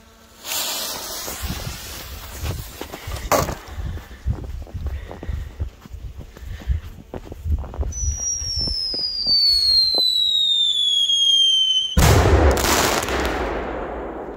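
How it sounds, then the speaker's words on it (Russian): A sharp crackling volley of bangs, then a rising-falling whistle streaks for several seconds before a loud burst of explosions from a firecracker launched by catapult. "Давайте посмотрим на этот взрыв."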